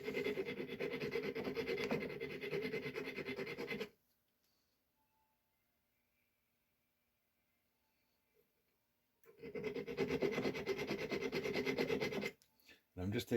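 A finer metal file rasps steadily against a piece of jewelry, smoothing off a small catch; two sustained bursts of even back-and-forth filing separated by a long quiet pause, close and fairly soft.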